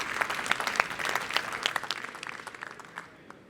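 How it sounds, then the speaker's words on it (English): Audience applause for a speaker at a talk on co-cities and collective intelligence: a dense burst of hand claps that thins out and fades over a few seconds, with no speech. "Let's give a warm applause to Cecilia."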